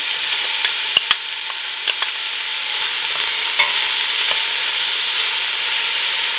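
Zucchini and celery sizzle steadily in a soup pot on the stove for Tuscan vegetable soup, with light intermittent scrapes and taps of a spoon as the vegetables are stirred.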